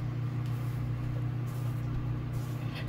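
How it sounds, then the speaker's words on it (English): A microwave oven runs while heating roti, giving a steady low motor hum and drone that stays even and fairly loud throughout, with no voices over it. "See guys, it's swelling nice and fat in the microwave."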